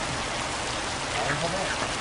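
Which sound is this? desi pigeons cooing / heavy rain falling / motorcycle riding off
heavy rain falling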